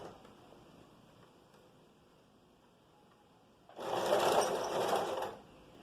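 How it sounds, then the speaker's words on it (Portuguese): A sewing machine left unoiled for years runs in one loud burst of roughly two seconds after a stretch of quiet room tone, with a rough, noisy mechanical whir. "Minha máquina tá fazendo um barulho meio estranho porque eu fiquei alguns anos sem colocar óleo nela"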